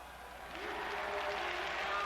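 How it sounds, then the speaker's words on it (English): Arena crowd at the 1989 World Gymnastics Championships breaking into cheering and applause after a men's vault, a dense roar swelling and holding, with a commentator's voice faintly beneath. "And the cheer goes up around the arena for that man, Igor Korobczynski."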